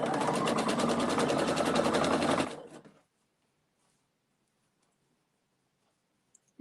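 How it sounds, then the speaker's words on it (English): A sewing machine runs fast, stitching fabric strips together with a 1/4 inch seam, a loud rapid whirring chatter for about two and a half seconds before stopping into near silence. "So let me sew these together."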